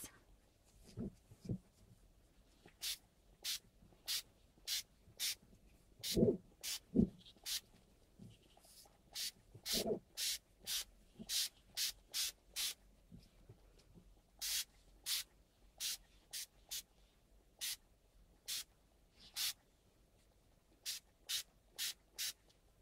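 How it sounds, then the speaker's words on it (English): Lindy's Moon Shadow Mist in Buccaneer Bay Blue is spritzed onto a bottle being altered steampunk style, in dozens of short, sharp hissing sprays in quick irregular bursts, close and clear against a quiet background. "And I am using a moon shadow mist. It's called Buccaneer Bay Blue."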